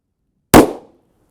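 A single sharp gunshot from a .45 Super 1911 pistol with a match-grade barrel, fired from a Ransom Rest about 8 yards away, cracks loudly out of silence and decays over a few tenths of a second.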